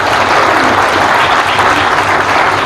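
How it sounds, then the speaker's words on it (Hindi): A large audience applauds at a memorial anniversary event for a fallen army captain, a loud, continuous roar of clapping from many hands with no voices breaking through. "तालियां बजती रहनी चाहिए"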